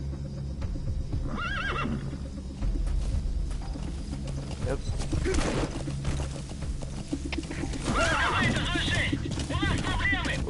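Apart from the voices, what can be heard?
horse whinnying and galloping in Metal Gear Solid V video game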